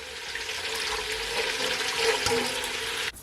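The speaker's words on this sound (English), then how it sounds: "I'm gonna add at least 6 cups of water to the same bowl that I used to season my oxtail" A steady stream of hot water pours and splashes into a bowl, a continuous rushing hiss that ends abruptly with a small clunk.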